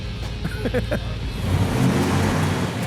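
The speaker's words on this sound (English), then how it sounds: "That car is sick. 1958 Plymouth Fury, 350 cubic inch, dual 4." A 1958 Plymouth Fury with a 350 cubic inch engine and dual four-barrel carburetors rumbles and revs nearby, its deep engine note swelling louder over a few seconds while people talk over it at the start.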